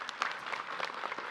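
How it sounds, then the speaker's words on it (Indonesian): A studio audience at an Islamic talk show gives a short round of applause, quick scattered clapping at a fairly low level for just over a second. "Tepuk tangan dulu."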